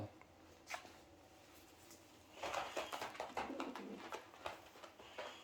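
Prized pigeons valued at around a million lira coo in a loft, soft throaty calls building into a busier run of cooing in the second half, fairly close but quiet.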